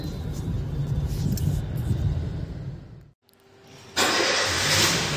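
Honda City car in a basement garage, engine running with a steady rumble that drops briefly to near silence, then starts again and carries on with a brighter, louder tone, heard close with no speech.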